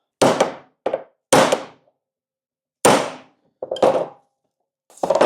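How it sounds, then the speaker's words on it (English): Heavy hammer blows drive a manual impact screwdriver into a screw on a small oil cooler from a Kawasaki GPZ900R engine, giving about six sharp metallic thunks in uneven pairs and singles, close and loud with silence between. "Impact screwdriver time."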